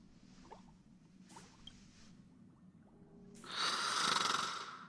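Snoring from a sleeping character in the video game Honkai: Star Rail: a quiet breathy inhale, then a louder rasping snore swelling and fading near the end over a faint ambient hum.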